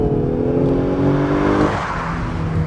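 A 2019 Lexus LS500h AWD hybrid sedan accelerating, its sound generator piping in a synthetic engine note that climbs steadily in pitch, then drops as a gear changes and resumes, heard close up from inside the cabin.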